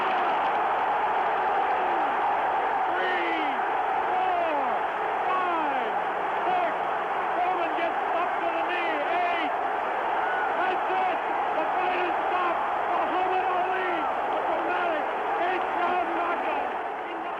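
A roaring stadium crowd in Zaire at the Ali–Foreman heavyweight fight, a dense continuous wall of cheering and shouting that stays loud throughout, with a broadcaster's voice faintly buried beneath it.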